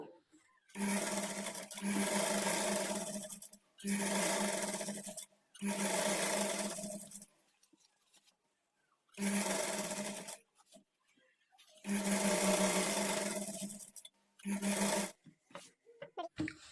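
A sewing machine stitches a kids' lehenga border in several long, even whirring runs, each lasting a second or two and separated by short silent pauses, close and clear.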